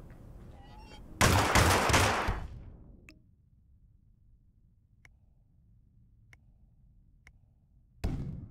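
A loud volley of gunfire from Hitman (2016) rattles for about a second, then fades to near silence broken by faint ticks, before another sharp burst opens near the end.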